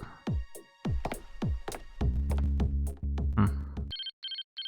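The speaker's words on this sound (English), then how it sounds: "Oh, phone call." A telephone rings in an interactive crime novel video game, a repeating electronic ring in short bursts that follows a few seconds of chopping and thudding sounds and a low droning tone.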